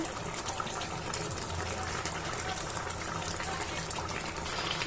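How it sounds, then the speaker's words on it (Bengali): Rohu fish head and vegetables boil in a pot, giving a steady, continuous bubbling hiss that holds at an even level throughout. "মাছ সিদ্ধ হয়ে গেছে সবজিও সিদ্ধ হয়ে গেছে"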